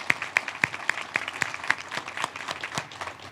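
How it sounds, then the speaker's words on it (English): A crowd gives a round of applause to the Ball family, owners of a Toyota dealership group. The clapping sounds fairly faint and distant, with sharp individual claps standing out at a regular beat over a softer spread of hands. "I would like to ask you to give another round of applause to the Ball family"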